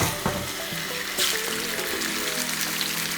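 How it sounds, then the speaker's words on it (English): A large piece of halibut sizzles and spits in a very hot pan on the stove, steady crackling frying with occasional clinks and a louder burst partway through, close and alone. "So it's important to get the pan hot enough when you cook a piece of fish."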